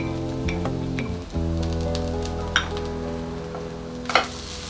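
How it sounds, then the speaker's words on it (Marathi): Grated coconut frying with browned onions in a pan, a steady close sizzle with a few stirring scrapes and clinks over a low constant hum. "कांदा लालसर झालेला आहे, तर आता मी त्याच्यातच नारळ घालते"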